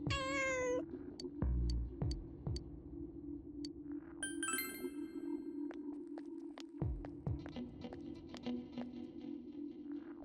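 A cat meows in the Persona 4 Golden video game, a bright chirping call at the start, followed by game sound effects with soft chimes, pings and quiet tapping over a low steady hum.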